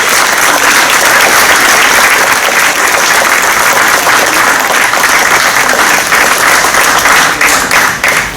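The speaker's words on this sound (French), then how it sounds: "Vous pouvez m'applaudir hein" Dense, loud applause from the audience at a July municipal council meeting, a continuous wash of many hands clapping at once that stays steady for several seconds before starting to thin out slightly at the end.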